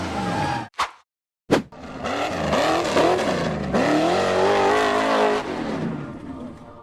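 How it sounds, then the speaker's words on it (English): A steel-framed off-road buggy climbs a steep, rock-strewn ledge, its engine revving hard in loud rising and falling bursts after a brief cut-out and two short blips. "buggy revved hard as it struggled to climb a steep, rock-strewn ledge."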